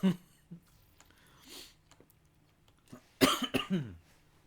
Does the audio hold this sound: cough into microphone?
yes